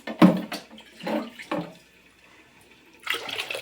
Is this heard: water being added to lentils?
yes